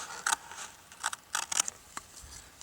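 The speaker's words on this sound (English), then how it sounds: "we want to cut with the scissors right along that line" Scissors snip along a fold line in a sheet of material for a fire starter, giving a string of short, crisp cuts close by, irregularly spaced and alone without talk.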